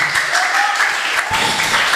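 Audience applause at a leadership seminar, steady clapping filling the whole stretch with a faint voice underneath.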